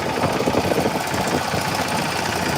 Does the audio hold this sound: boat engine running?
yes